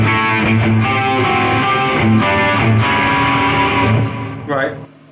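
Ibanez Superstrat-style electric guitar played through its rear humbucker with both coils wired in series, giving a loud, continuous run of sustained, distorted chords and notes that fades away at the end.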